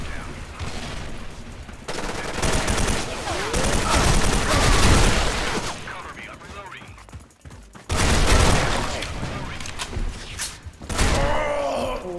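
Gunfire in the online shooter Special Force 2: loud, dense bursts of automatic fire and shots rolling almost continuously, with a brief lull midway, under occasional voices.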